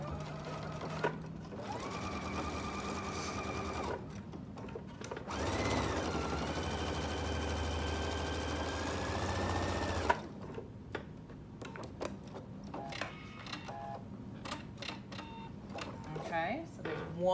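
Sewing machine stitching along the edge of fabric for a market bag, in bursts of steady motor whir separated by pauses, with speech in between.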